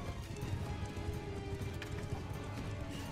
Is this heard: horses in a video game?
yes